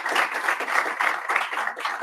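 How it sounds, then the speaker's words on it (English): Audience at a tech meetup applauds a speaker, several hands clapping in a steady, fairly close patter that keeps going for the whole short stretch, with no talking. "A big round of applause."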